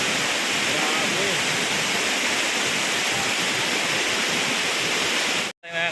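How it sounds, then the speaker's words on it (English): Shifen Waterfalls in Taiwan roar with a constant broadband rush of falling water, loud and steady throughout, with faint voices beneath and a brief cut near the end. "Shifen Waterfalls."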